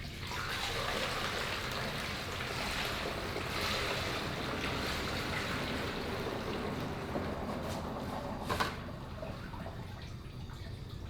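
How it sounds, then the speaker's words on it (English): Water is poured through a funnel into the tank of a battery-powered sprayer, giving a steady, rushing splash that holds at an even level for several seconds with no talking. "I got some water, I'll pour in here"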